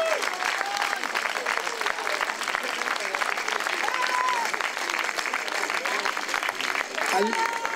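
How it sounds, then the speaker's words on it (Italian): Sustained applause from an audience at a church gathering, dense continuous clapping that fills the whole stretch at a steady level, with scattered voices and shouts from the crowd mixed in. "Allungate l'applauso"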